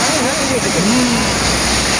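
Heavy water pouring down Jog Falls in Karnataka makes a constant broadband roar filling the background, while someone talks over it close to the microphone.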